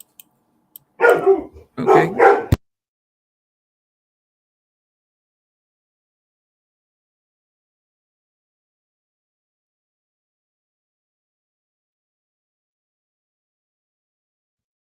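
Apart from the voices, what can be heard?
dog barking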